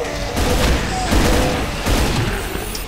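Grenade blasts in the Brutal Doom shooter rumble as a dense, loud barrage of booms, several overlapping bursts rolling one into the next over a noisy battle din.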